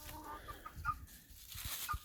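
Dominique and Gold Star chickens cluck softly nearby in a quiet homestead yard, giving a few short uneven calls with light rustling between them.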